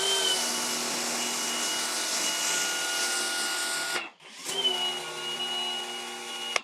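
Fanttik NB8 Ultra portable pressure washer spraying through a 2.0 tip on the stock hose and gun with an adapter, a loud steady whining motor hiss that cuts out briefly and then restarts.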